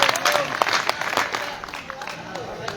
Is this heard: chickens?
no